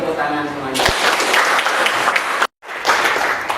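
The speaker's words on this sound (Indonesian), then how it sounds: "Oke, tepuk tangan semuanya." A classroom audience claps together in a short burst of applause after a voice speaks, the clapping dense and close, cutting off abruptly before resuming briefly.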